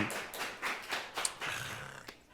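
Faint scattered hand clapping, a few irregular claps that thin out and fade near the end, quiet and somewhat distant.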